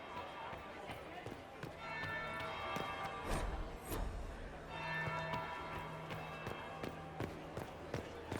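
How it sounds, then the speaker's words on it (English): Church-style bell tolling in Dragon Age: Inquisition, with repeated resonant strikes ringing over a busy in-game scene, under game ambience and a voice. "That would be the second bell."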